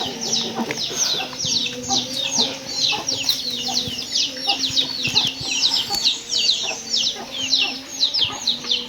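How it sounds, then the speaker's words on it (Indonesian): Many chickens cluck and chirp busily around a traditional rural house in remote South Sukabumi, a steady overlapping chatter of fowl close by, with a person talking over it at times. "Tuh seperti ini ya, rumahnya si asri ya, rumah tradisional. Banyak ayamnya juga ya."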